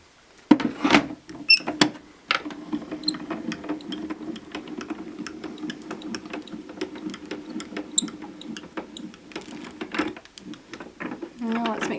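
A paper-cutting die machine cranks paper through with a low grinding hum, small squeaks and clicks, bracketed by sharper knocks as the piece is handled, and a voice speaks intermittently.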